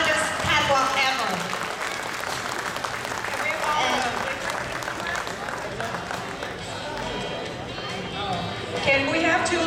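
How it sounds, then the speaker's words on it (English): Audience applause at a Lao American student fashion show, a steady roar of clapping and crowd noise with voices mixed in that holds for the full stretch. "So give them now a round of applause again, one more time."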